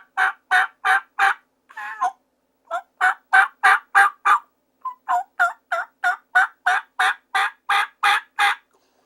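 A mouth call imitates a hen turkey's yelp: loud, close two-note yelps repeated in quick runs of four or five, with brief pauses between sequences and no talking over them.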